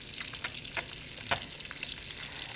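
Salmon and garlic frying in a hot pan give a steady close hiss with a few brief stirring scrapes and pops, and no one talks.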